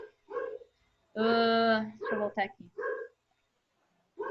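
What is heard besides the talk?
neighbourhood dogs barking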